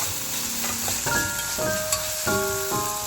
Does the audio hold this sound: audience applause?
no